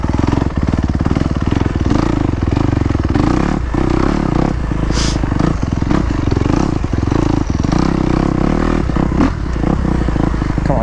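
A Kawasaki KX250X dirt bike rides around a practice track, its engine buzzing loud and close the whole time with rapid throttle changes, clattering and scraping through the run, and no voices.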